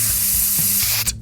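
A spray can releases a continuous loud, close hiss of aerosol for about a second, with a low hum beneath it, then cuts off with a short final burst, alone without talk.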